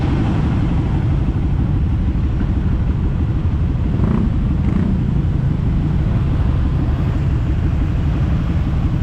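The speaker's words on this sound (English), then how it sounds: "It's hard to explain with words how busy and how much traffic there is in Bali." Loud, dense street traffic in Bali with cars and motorcycles passing close by, a constant engine rumble and buzz with a louder vehicle surging past mid-way.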